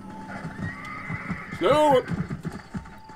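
A horse in Red Dead Redemption gives a loud, shrill whinny mid-clip over a steady clip-clop of hooves, while someone talks briefly beneath the action.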